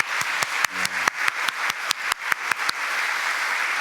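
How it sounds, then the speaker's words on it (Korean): A church congregation claps for a baptism in a fast, steady unison rhythm of about a dozen sharp, evenly spaced claps, then stops and leaves a low room hiss. "우리 큰 박수로 축하하겠습니다"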